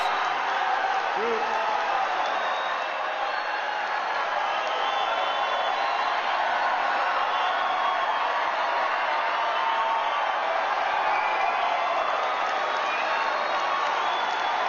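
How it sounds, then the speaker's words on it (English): Sustained applause and cheering from a large crowd at Trump's CPAC speech, a dense, even roar of clapping that holds steady throughout without a break. "maybe I didn't need to have 46 seconds of applause in that"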